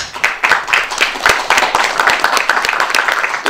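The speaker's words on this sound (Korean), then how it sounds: "큰 박수로 환영해 주시기 바랍니다." Steady applause from a crowd, many hands clapping densely and loudly without pause, no voices standing out.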